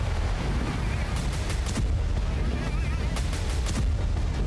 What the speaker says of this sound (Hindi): सीरिया के अलेप्पो तक में धमाके हो रहे हैं